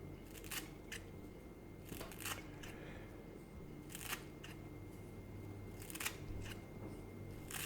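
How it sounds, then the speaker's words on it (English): Kitchen scissors snip fresh rinsed chives in short crisp cuts, a few at a time with pauses between, close up and quiet over faint room noise. "chives, best thing to do is just to snip them like this."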